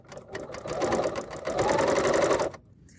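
Serger sewing machine stitching fabric with its cutting blade down, a loud, close, fast mechanical whirring that runs steadily for over two seconds and then stops abruptly.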